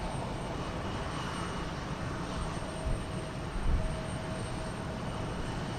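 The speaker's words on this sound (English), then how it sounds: "This will be an Embraer 175, flight 3983." Embraer 175 regional jet operating at Houston Intercontinental, a steady broadband engine roar at moderate distance with a couple of brief louder swells, no voices present.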